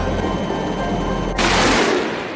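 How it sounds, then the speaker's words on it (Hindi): Continuous gunfire and shelling from the Kargil War mountain fighting: a dense, loud roar of shots that swells into a heavier broadband burst partway through, then thins at the end. "लगातार फायरिंग और गोलाबारी से भी सफलता नहीं मिल पा रही थी।"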